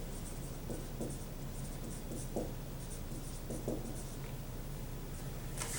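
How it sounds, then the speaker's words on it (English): Writing labels on a four-chambered heart diagram: faint, close scratchy strokes of a pen or marker in short bursts with pauses between, against a quiet steady background hum. "So I'm going to go ahead and write that."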